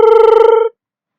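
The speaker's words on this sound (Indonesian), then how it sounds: "Dan telepon pun berdering." A telephone in The Hangover Part II rings in one loud, rapid electronic trill lasting under a second before cutting off abruptly into silence.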